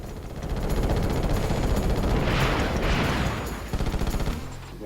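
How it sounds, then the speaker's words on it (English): Missiles fired in the Ratchet and Clank video game: a loud, dense burst of rapid explosive blasts and rumbling booms, swelling and then trailing off, with a last short rattle of shots at the end. "Let's shoot the hell out of it with missiles."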